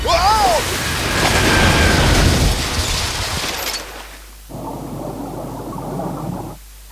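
A grenade goes off in Binary Domain with a loud, rumbling explosion blast that rolls on for several seconds before dying away, followed by quieter background sound and some voice.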